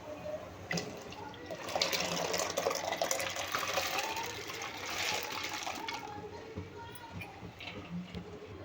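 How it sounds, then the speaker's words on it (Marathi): Lentils are poured into hot water in a cooking pot, giving a rushing, splashing wash of sound that swells for a few seconds and then settles into a softer bubbling hiss. "आता आपण ही डाळ टाकून देऊया"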